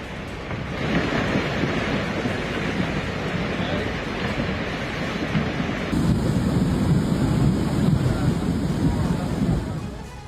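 Floodwater rushes through a French street that has broken apart, with a cars-swept-away roar of churning water and heavy wind-like rumble, loud and continuous throughout.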